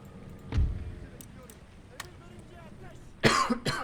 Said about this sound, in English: I'm coughing a little bit more this evening than, well, I say normal